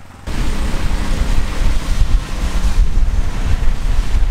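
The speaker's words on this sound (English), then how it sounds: "it doesn't really help that it's pouring down rain" Wind and pouring rain roar with a heavy, steady rush, loud and close, as gusts buffet the microphone on a rainy day of a tuk-tuk journey in Sri Lanka; no voices are heard.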